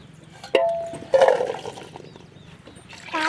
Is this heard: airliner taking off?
no